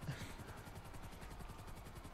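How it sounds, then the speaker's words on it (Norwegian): Rotor chop of a helicopter in Grand Theft Auto 5, a faint, steady, rapid thumping that continues evenly without a break. "vanligvis når du bestiller helikopter, sånn som jeg gjør, så kan du få sånn eh, attack-helikopter"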